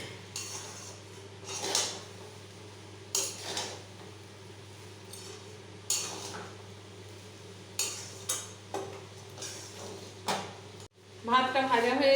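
Fried rice being mixed with salt and ground pepper in a pan, with repeated scraping and clinking of a utensil against the metal in short bursts, and a louder clatter near the end.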